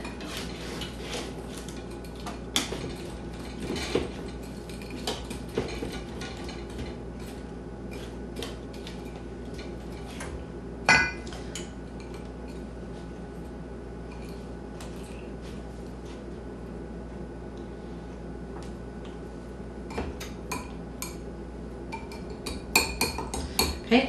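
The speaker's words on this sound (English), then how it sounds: "I'm going to use a pastry blender just to so I don't get my hands so messy" Pastry blender cutting crumb topping in a bowl, a long run of small rhythmic clicks and scrapes of metal against the bowl, quiet and steady with occasional louder knocks.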